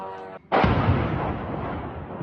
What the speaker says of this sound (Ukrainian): місцеві жителі записують вибухи у різний час доби